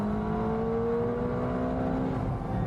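Ferrari GTC4 Lusso T with a twin-turbo V12 at full throttle from about 110, a steady loud engine drone with rising harmonic tones as it pulls, heard from inside without talk.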